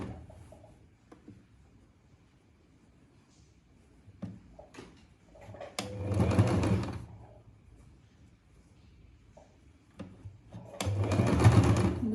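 A sewing machine stitching pleats into a salwar, two short whirring bursts a few seconds apart between quiet handling clicks and cloth rustles, fairly close and with no talk.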